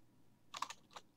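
A single computer keyboard key, the Alt key, is pressed during GTA San Andreas gameplay, giving a few quiet, close clicks clustered together in an otherwise hushed moment with no talking.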